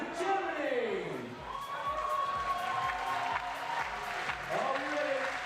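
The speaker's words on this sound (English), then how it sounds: "we're going to rise, and we're going to cheer" A stadium crowd at the Invictus Games in Düsseldorf, 2023, cheering and clapping in a broad roar beneath a loud voice speaking over it, with rhythmic thumping in the background.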